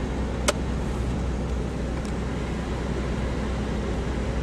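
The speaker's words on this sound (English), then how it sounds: "We got a car coming, we gotta be careful and not run off the road." Car driving on a snowy road at night, with a steady low engine and tyre rumble throughout and a brief click near the start; no talking.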